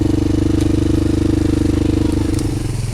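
Honda 400EX ATV engine idling and running close by, a steady throbbing low-pitched putter with slight variation toward the end, no speech over it.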